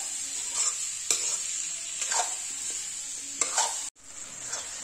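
A spoon steadily stirs amla pickle with salt, Kashmiri chili and turmeric powder in a sizzling pan, with a constant frying hiss broken by several scraping strokes and one brief dropout.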